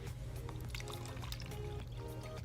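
Small amounts of water poured into small containers standing in for model toilets during an elementary wastewater engineering lesson, giving quiet trickling and splashing that repeat in short bursts under a low room hum, with no talk.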